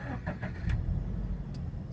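Toyota GT-86 with an FA20 boxer engine, weakened by a flat battery and since recharged, cranks and starts up, with a steady low engine rumble running close up throughout.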